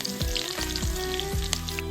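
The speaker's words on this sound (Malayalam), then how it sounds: "നമുക്ക് കടുക് പൊട്ടിച്ച് കറിവേപ്പില ചേർക്കാം" Mustard seeds and curry leaves sizzle in hot oil for a duck roast, with a steady close hiss broken by scattered pops and crackles from the seeds.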